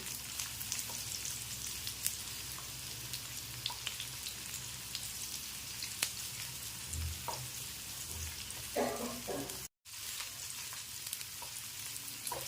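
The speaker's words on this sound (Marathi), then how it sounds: "हे लसूण अद्रक हे दोन्ही पण टाकते मी यामध्ये आणि एक मिनिट आपल्याला हे परतून घ्यायचं आहे" Garlic and ginger sauté in a pan for Maharashtrian misal, a soft continuous sizzle with occasional spoon clicks and stirring, close but fairly quiet, cut by a brief dropout near the end.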